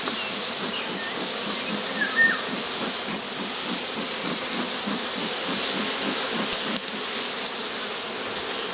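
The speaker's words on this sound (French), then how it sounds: "C'est envahi d'abeilles." A dense, steady insect buzz of many honeybees in an open hive fills the whole stretch, with a low mechanical hum beneath and no voices.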